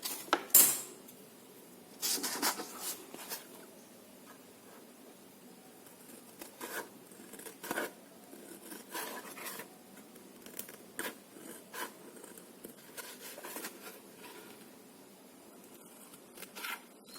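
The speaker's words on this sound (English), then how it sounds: "And I'll just cut this out." Scissors cutting a piece out of a foam sheet for a craft, quiet intermittent snips and rustling clicks close by, spread irregularly over about seventeen seconds with no talking.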